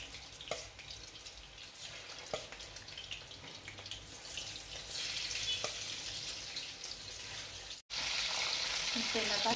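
Soya chunks fry in hot oil, a crackling sizzle that grows louder and denser partway through, with a few sharp clinks. It breaks off abruptly, then resumes at full strength.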